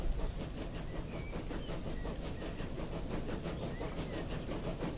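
Train rolling past in the Transport Fever video game, a loud, continuous rumble with hiss and rhythmic clatter of wheels that holds steady for about five seconds, with faint high squeals over it.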